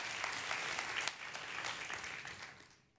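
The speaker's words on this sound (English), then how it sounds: "not only should we give them a round of applause" Sustained audience applause at an awards event honoring a top company for women in technology, a dense wash of many hands clapping that holds steady before fading out toward the end.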